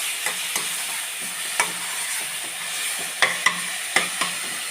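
Chopped green chilies, onion and tomato sauté in a pan under a continuous soft sizzle, with a spatula knocking and scraping against the pan at irregular intervals.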